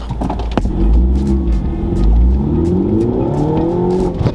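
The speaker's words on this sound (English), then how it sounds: "Oh, so much wheel spin. Spun my way through first and second there." Mini Cooper launched hard with heavy wheel spin, engine revving up through first and second gears, loud and close with rising pitch sweeps and a brief shift dip.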